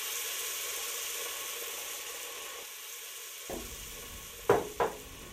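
Chicken broth poured into a pan of risotto brings a soft, low sizzle that quiets briefly, then returns, followed by two sharp bursts as liquid hits the hot pan.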